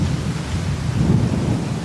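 Steady rain with a deep rolling rumble of thunder swelling midway, a storm building loud and continuous throughout with no voices.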